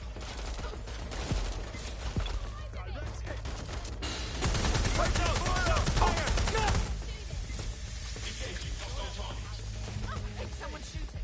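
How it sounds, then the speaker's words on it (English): Gunfire in the video game Watch Dogs Legion: a dense burst of rapid shots swells loud for a few seconds, with scattered single reports before and after under ongoing combat noise and in-game voices. "Someone shooting."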